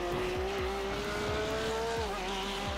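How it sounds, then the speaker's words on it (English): A Porsche 911 GT3 Cup 992 with a 4-litre flat-six engine, racing at Suzuka in a video game, holds a loud, steady high-revving drone throughout, with a few faint tire squeals underneath. "It's flat 6, 4 litre flat 6 engine,"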